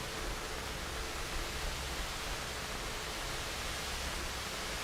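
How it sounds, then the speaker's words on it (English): Steady broadband static and white noise, unbroken and fairly loud, forming the long closing stretch of an album. "fading out into static and white noise that takes up the last 4 minutes of the album"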